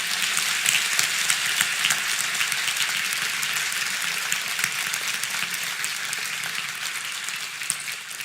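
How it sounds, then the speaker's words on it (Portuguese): Sustained, dense applause from a church congregation celebrating Jesus at a thanksgiving service, steady and loud for the whole stretch with no talk over it. "Pode aplaudir a Jesus bem forte."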